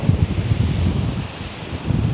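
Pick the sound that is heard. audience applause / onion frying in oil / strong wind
strong wind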